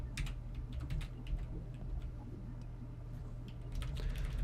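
Rapid, uneven keystrokes on a computer keyboard, fairly close and moderately loud, clicking in bursts over a steady low hum with no voices.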